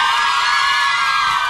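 Crowd of fans letting out a high-pitched, continuous scream, a dense sustained shrieking wall of voices, loud and unbroken throughout.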